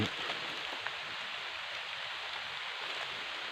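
Rain begins falling in a Thai forest during mushroom foraging, a soft, even patter and hiss with a few faint drops standing out, quiet and steady throughout.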